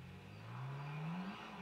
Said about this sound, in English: because it certainly sounds like it has an engine